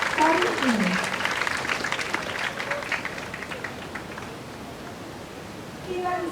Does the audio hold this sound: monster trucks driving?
no